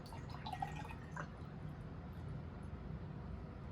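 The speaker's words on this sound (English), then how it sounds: "pour" Coconut milk is poured from one jar into another, giving a steady liquid trickle with a few dripping splashes over a constant low background hiss.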